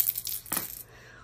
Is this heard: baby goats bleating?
no